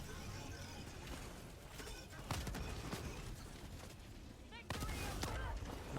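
Gunfire crackles while sniping Automaton fabricators in Helldivers 2, dense bursts and booming shots over continuous battle noise, with a couple of sharp loud impacts standing out.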